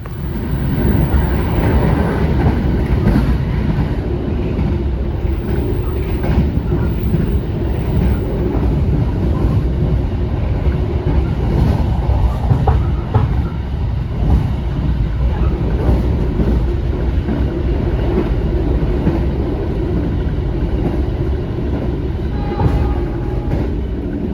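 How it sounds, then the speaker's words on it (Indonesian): A train rumbles past steadily and loudly, with rattling and clattering throughout and no pauses, heard from aboard a train in Indonesia. "bertemu dengan kereta api Bengawan dengan relasi Pasar Senen Purwosari"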